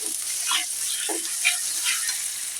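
Ground spices (garlic, onion paste and ginger) fry in a pan for a beef tripe curry, giving a soft, steady sizzle broken by a few brief scrapes of stirring, with no one speaking.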